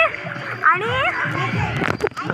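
Water splashes and sloshes close by as people wade in, amid excited voices and a child's chatter.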